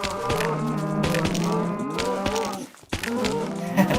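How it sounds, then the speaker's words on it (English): Minecraft cows moo again and again in a tight chorus of overlapping calls, crowded into a mob-killing pen, loud and close, with a brief gap near the end before the lowing resumes. "you stack the thing up with mobs, of which I'm filling it up with cows now"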